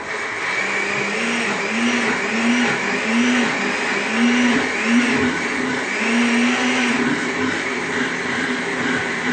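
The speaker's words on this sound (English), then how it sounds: "adding just enough water to help the blades of your blender move" A blender whirs steadily, its motor pitch rising and falling in a repeating pattern as the blades churn ingredients for Nigerian moi moi with a little water, loud and close throughout.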